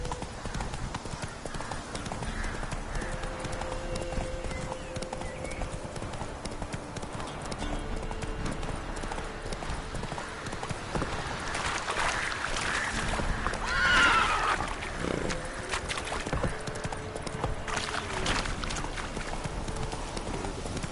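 Horse hooves clip-clop steadily with occasional whinnying over a constant background bed in the video game The Witcher, and a voice speaks briefly partway through.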